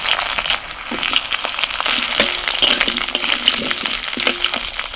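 Potatoes frying in hot oil with dry chilli, bay leaf and whole cumin, a loud, close, crackling sizzle running the whole time with a few scraping stirs mixed in.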